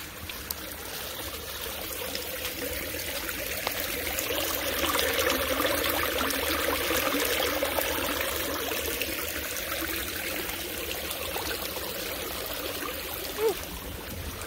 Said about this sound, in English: I need to get the sound of the rushing water